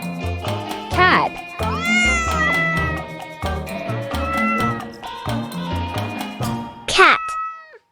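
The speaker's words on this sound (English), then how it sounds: "Cat" Cat meows from a children's animated letters and animals song rise and fall several times over a bouncy musical backing, loud and close, with a sharp final yowl near the end.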